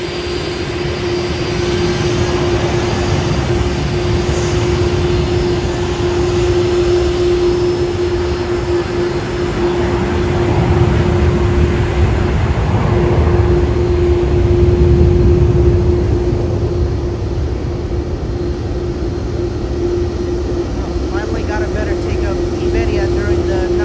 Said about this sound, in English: Next up is United Airlines Flight 701 coming in from Houston Intercontinental on a MAX 9, which is on approach for the south side at runway 10.